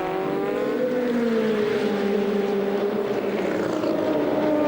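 Nissan Group C race car at Le Mans crossing the start-finish line, a loud sustained engine howl with clear harmonics that slide downward as it passes close by and pulls away, heard alone.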